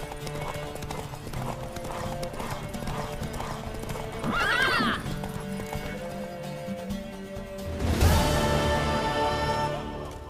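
A horse gallops during a race in The Witcher 3, its hooves clip-clopping in a fast, steady rhythm. Two loud neighs stand out, one midway through and a stronger one near the end.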